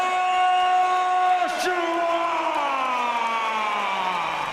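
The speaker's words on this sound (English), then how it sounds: "you can hear exactly how this crowd in Liverpool feel about that" A Liverpool boxing arena crowd roars and whoops for Anthony Joshua's ring introduction, a loud sustained wall of voices with held tonal cries that swell and slide for several seconds.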